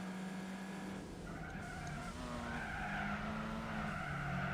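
A race car at Tsukuba circuit in Gran Turismo 4 in a Volkswagen, a steady engine drone rising and shifting in pitch with squealing tyres, constant and moderately loud.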